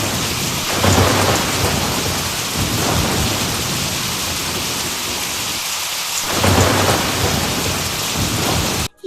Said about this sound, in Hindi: बादलों की गड़गड़ाहट,